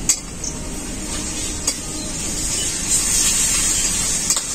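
Ginger and garlic paste sizzles steadily in a pan with onions, a soft continuous frying hiss broken by a few light clinks and stirs of a utensil.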